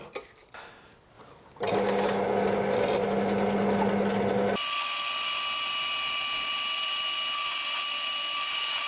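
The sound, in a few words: pillar drill drilling out Shimano brake caliper pin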